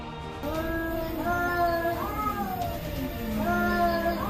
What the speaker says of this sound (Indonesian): Mbia, itu sih suara kucing berantem.